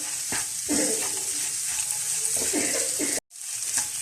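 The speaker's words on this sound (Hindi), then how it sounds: "तो तकरीबन 5 मिनट मैंने नट्स डालने के बाद भी हलवे को फ्राई किया है।" Nashasta halwa with pistachios, almonds and melon seeds frying in a pan, a steady broad sizzle with a few soft stirring scrapes and a brief dropout near the end.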